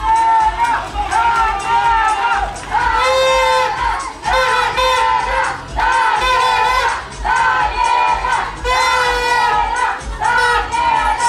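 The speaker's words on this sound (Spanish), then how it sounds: "para la cual pido un fuerte y caluroso aplauso." A crowd cheers and shouts continuously at the Señorita Ixtapaluca 2013 coronation pageant, loud and close, with voices rising and falling in waves for the whole stretch.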